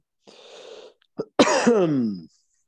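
A person coughs a few times up close, a short rough burst followed by a stronger, raspy cough with a throaty, voiced tail.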